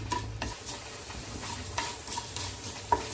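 Coriander seeds fry in hot oil for a hotel-style sambar, a steady close sizzle broken by stirring scrapes and a light metallic clink of a spoon on the pan.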